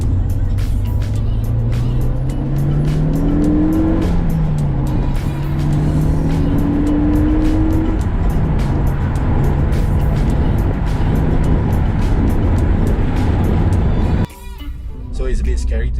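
A loud turbocharged, completely stock Renault Megane RS250 engine revs and climbs through the gears with rising pitch, droning steadily before cutting off abruptly near the end.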